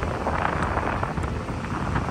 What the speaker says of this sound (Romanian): Mă dă vântul pe spate.